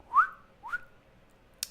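Two short whistled upward sweeps from a person signaling an Arduino-based circuit, close and clear with a brief pause between, followed by a tiny click.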